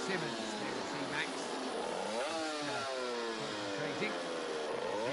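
Racing motorcycles on the starting grid of a 2011 GP Racing Dream round rev loudly and continuously, several engines rising and falling in pitch together, under a commentator's voice.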